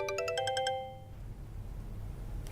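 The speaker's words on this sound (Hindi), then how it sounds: "देखो देखो, प्रभात का ही फोन है ना।" A phone ringtone plays close by as a quick run of repeated bright electronic tones for about a second, then stops, leaving a low room hum.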